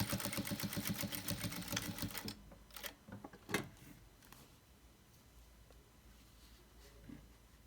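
Sewing machine stitching quilt patchwork, a fast rapid clatter of stitches for about two seconds that then stops, followed by a few faint mechanical clicks and quiet room tone.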